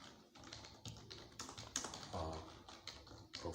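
Computer keyboard typing in short irregular bursts of taps, close and fairly quiet, with no one speaking.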